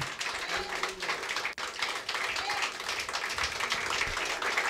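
A church congregation claps and applauds steadily, a dense wash of hands without a break, fairly close.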